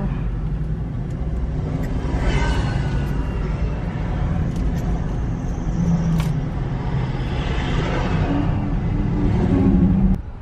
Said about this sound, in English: There's a lot of traffic in Buffalo.